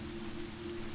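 Rain falls on a rainy path in the video game Eleusis, a soft, even hiss with no voices, steady and fairly quiet over one second.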